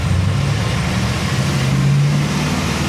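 A GM LS3 430 hp crate engine runs at part throttle on a dyno, a loud, steady low drone with a slight rise in pitch, no talk.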